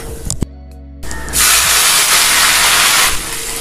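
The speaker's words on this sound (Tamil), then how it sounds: "இப்போ தக்காளி ஆட் பண்ணிக்கலாம்." Tomatoes dropped into hot oil over sautéed ginger and garlic for a Tamil tomato thokku chutney, bursting into a loud, steady hiss of sizzling that lasts about two seconds after a brief quiet pause, then eases off.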